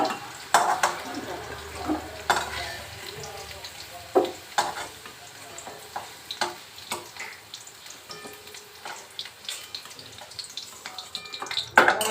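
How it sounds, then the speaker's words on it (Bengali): Paneer cubes fry in oil in a pan. Soft sizzling runs under repeated scraping and stirring clicks that come in irregular bursts, close and fairly quiet. "এবার পনিরগুলো ভাজবো"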